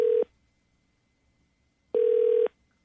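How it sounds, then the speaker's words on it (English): Ringback tone of an outgoing telephone call placed from a radio studio: two steady electronic ring bursts, a short one at the start and a longer one about two seconds later, separated by silence. "it's ringing."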